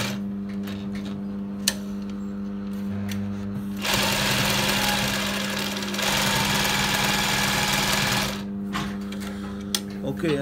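A SMITCH 20u53 zig zag and straight sewing machine stitches in two steady, loud mechanical whirring bursts of several seconds each, with quieter humming and a person talking between them.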